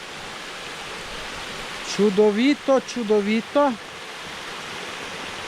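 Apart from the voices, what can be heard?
wild mountain stream flowing near Črmošnjice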